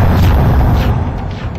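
A loud, close explosion from a T-72 tank hitting its target: a heavy, broad blast that rumbles and fades over a second or so, with no voices.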